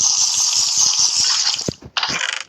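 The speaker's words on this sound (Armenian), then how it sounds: "եկեք մի 2 շիշ ջուր էլ խմենք" Water rushing steadily from a bottle as someone drinks, a close continuous pour broken by a brief pause before it resumes.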